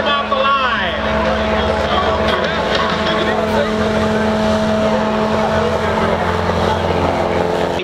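A modified Pacer light aircraft with leading edge slats, extended wings and big tires throttling up for takeoff at an air show, its loud droning engine steady and close, with an announcer talking over it throughout.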